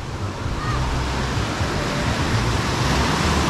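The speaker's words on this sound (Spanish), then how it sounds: "La marea está un tanto agitada, hay olas un poquito altas" Rough sea surf breaks steadily on the beach at Rincón de Guayabitos, Nayarit, a continuous loud wash of waves and wind with no clear pauses and no talking.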